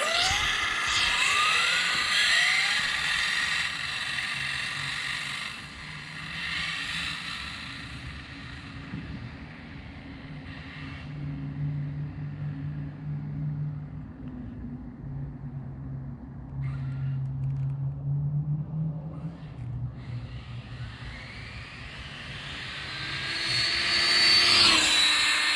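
An Exceed Mad Drift 1/8 scale RC car motor whines with a steady high-pitched drone that rises and falls over about twenty-five seconds, loudest at the start and end, with no talk.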